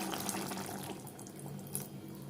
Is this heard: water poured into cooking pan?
yes